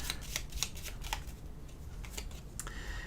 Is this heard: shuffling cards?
yes